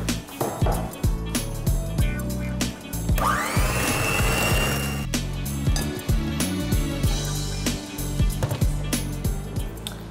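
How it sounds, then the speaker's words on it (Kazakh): An electric mixer whirs continuously while mixing ingredients for a dish in a kitchen, a steady motor drone with a rising pitch sweep midway and clattering knocks throughout. "ал енді біздер миксермен араластырамыз"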